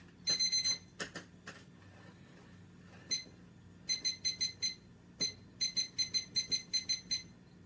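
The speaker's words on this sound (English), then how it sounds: "I'm gonna start a timer." A kitchen timer beeps during mooncake baking, sounding fairly quiet in repeated bursts of rapid high beeps separated by short pauses, with no talking.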